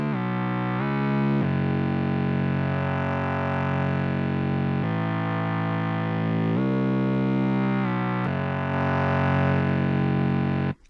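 A sustained, harmonically rich tone through a tube distortion plugin on the midband, with a gritty, saturated edge, changing pitch a few times and growing fuller and more distorted as the tube is increased.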